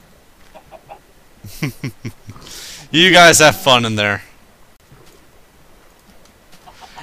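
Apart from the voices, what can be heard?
chickens clucking in Minecraft video game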